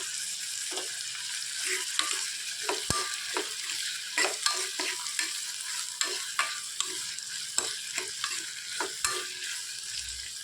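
Tomatoes sauté in a pan for a brinjal tamarind curry with a steady close sizzle, and a spoon scrapes and clinks against the pan at irregular moments throughout.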